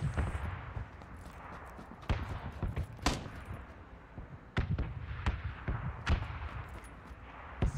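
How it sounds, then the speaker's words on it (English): Gunfire in the video game PUBG: a series of sharp cracks spread unevenly over several seconds, some single and some in quick pairs, moderately distant, with faint chatter now and then. "we're being shot at"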